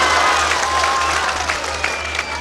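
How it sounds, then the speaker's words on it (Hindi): An audience at an All India Mushaira poetry gathering in Azamgarh claps together, a lively, crowded patter of hands over a steady low hum from the sound system, fading slightly toward the end. "एक बार तालियां बजा दें मुशायरे कमेटी के लिए।"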